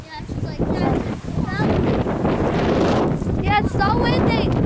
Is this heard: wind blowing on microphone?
yes